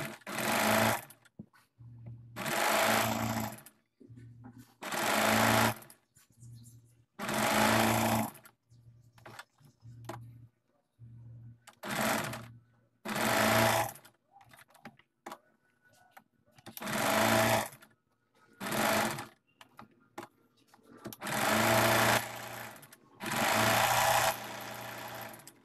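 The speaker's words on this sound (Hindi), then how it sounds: "अब हम अपने नेक को इस तरह सेंटर में रखेंगे और इस तरह से बुकरम के बगल बगल में सिलाई लगा लेंगे।" A sewing machine stitches a lace design onto the neck of a kurti in short, loud bursts of rapid whirring, stopping and starting in a steady rhythm with quiet pauses between runs.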